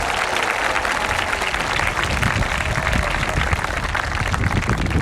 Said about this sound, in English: How about another round of applause for our color guards?